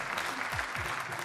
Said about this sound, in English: And a round of applause for Fabiano Sterlachini.